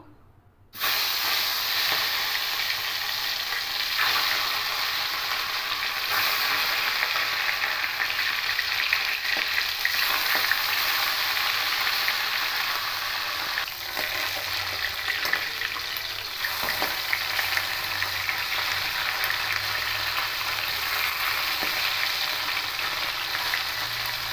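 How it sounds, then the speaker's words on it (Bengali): Live fish sizzle and spit loudly in very hot oil in a wok, a steady close frying hiss that starts abruptly and carries on without pause. "তেলটা খুব গরম হয়ে গেছে, এবার মাছগুলো দিয়ে দেবো।"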